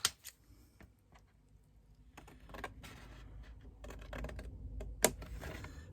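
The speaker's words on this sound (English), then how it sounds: "I'm going to cut up this first one and the second one from the right hand side" Card being cut up to a score line for a corner inverted box, a series of quiet, close snips and clicks in uneven bursts, fairly faint against low background hiss.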